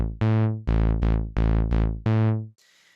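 Synthesizer bass sequence played with the mod wheel at zero: six plucked, harmonically rich notes in a bouncy rhythm, each decaying quickly, followed by a short faint noisy tail.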